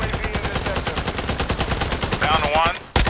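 Rapid automatic gunfire in a video game rattles in a fast, even burst of shots, close and loud, with a brief sharp change near the end.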